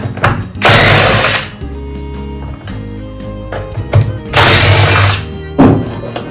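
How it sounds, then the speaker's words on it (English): A power tool fitted with an 8mm socket whirs loudly in bursts as it backs out the bolts holding the recoil starter on a dirty, long-unused lawn mower, with clunks and knocks between runs. "I got an 8mm socket I'm going to use to take these 3 bolts that are holding the recoil starter on."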